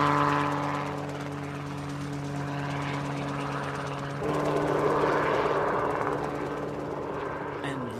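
Helicopter with a large main rotor on top and a small tail rotor, its steady engine and rotor drone holding throughout and rising slightly partway, with a faint voice underneath.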